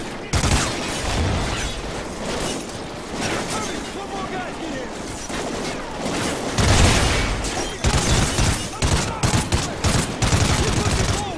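Gunfire in the video game Call of Duty: Ghosts, with bursts of rapid automatic fire, scattered single shots and booms in a busy battle scene, loud and continuous, with voices talking over it.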